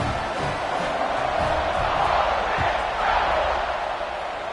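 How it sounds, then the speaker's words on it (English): A football stadium crowd roars steadily before kickoff, a dense, continuous wash of cheering and shouting from a large distant mass of fans. "They're set to kick it off, and this crowd now ready to get behind them"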